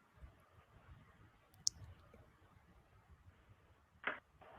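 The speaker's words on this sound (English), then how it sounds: "We can hear you clicking buttons" Buttons are clicked during a video call, a few faint, scattered clicks over quiet background noise, with one sharp tap and a louder click near the end.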